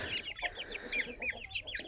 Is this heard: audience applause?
no